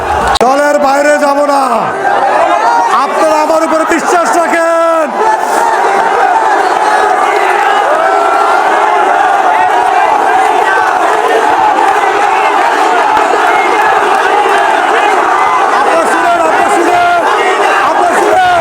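A large crowd of party supporters chants election slogans at a welcome rally, loud and continuous, with rhythmic shouted calls and massed voices filling the whole stretch close up.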